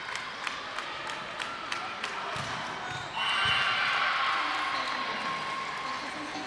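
Crowd cheering and clapping at a women's volleyball match between HU and the University of Saint Francis, at set point. A swelling roar fills a gym with sharp ball bounces and slaps, rising louder halfway through.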